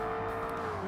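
A Ferrari race car in the Forza Motorsport video game brakes hard, with engine tone falling and tyres squealing briefly, loud and close, alone without talk.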